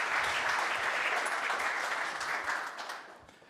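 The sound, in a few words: audience applause for the PI chairman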